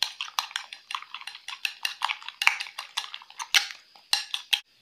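Eggs poured into a bowl are beaten by hand, producing a fast, regular run of close, sharp clinks and taps as the utensil strikes the bowl, with no talk over it.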